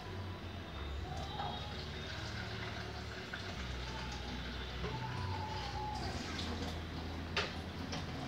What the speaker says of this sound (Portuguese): Deixa eu pôr um pouquinho d'água aqui para esquentar mais.